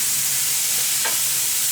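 Onions frying in oil with smoked paprika in a kitchen pan, a steady soft sizzle throughout with a brief stirring scrape near the middle, close and moderately loud with no talking.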